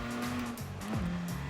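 Racing cars in Gran Turismo Sport, with engine notes whining at a steady pitch that drops through gear shifts while tires squeal, loud and continuous with no talking.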